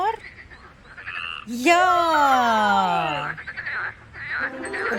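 A cartoon-style frog croak in a children's sign-language and colours lesson: one long, drawn-out call that slides downward in pitch, set between short bursts of speech.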